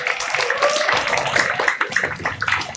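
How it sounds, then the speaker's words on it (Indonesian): A school audience at SMA Negeri 20 Jakarta's Independence Day and school anniversary celebration claps together, a continuous crowded patter of hands filling the hall with some faint voices mixed underneath. "Tepuk tangan dong."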